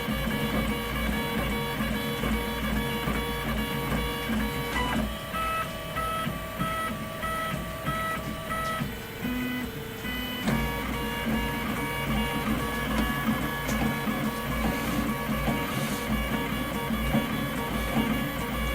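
A Robin 3D printer running at full speed gives off a steady mechanical whir, with stepper motors singing shifting tonal pitches as the head changes direction, continuous and close.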